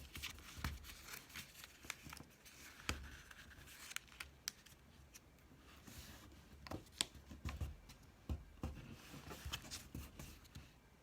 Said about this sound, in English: fold it to the middle. And then repeat on this side.